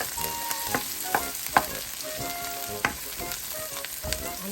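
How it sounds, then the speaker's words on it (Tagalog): Onions fry in oil with a constant bright sizzle while a utensil stirs and taps the pan in scattered clicks, close-up and without speech. "So I need to add the onions. You have to stir it"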